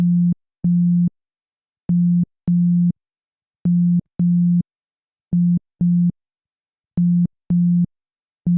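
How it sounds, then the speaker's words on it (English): Synthesizer notes with the oscillator phase being changed, short steady low tones played in pairs with silent gaps between, each pair clean and evenly repeated. "play a bunch of notes and change the phase of those notes"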